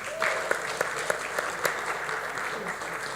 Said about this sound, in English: Please let's keep clapping for her.